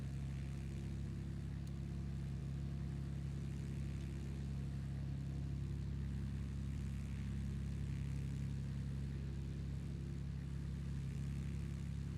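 The piston engine of an L-19 aircraft in Microsoft Flight Simulator 2024 drones continuously, a low, steady propeller hum that holds constant throughout with no speech.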